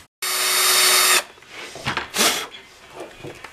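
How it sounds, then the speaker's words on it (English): An electric drill bores a hole for a pickup wire through a box, a single loud steady whine lasting about a second, followed by quieter scraping and handling clatter. "So the next thing I'm going to do is drill that hole for that wire right there."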